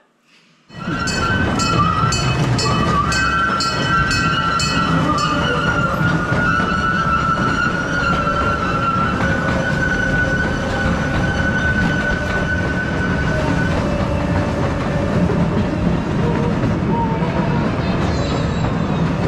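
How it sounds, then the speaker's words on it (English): Rumbling underground mine train ride on rails in the Strataca salt mine, Hutchinson, Kansas, with rattling, clanking and a sustained squealing whine, loud and continuous for the whole stretch. "That was the salt mine train ride."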